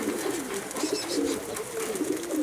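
Outzidika pigeons from Karditsa coo continuously at close range, a soft rolling chorus of low throaty calls from several birds without any voices.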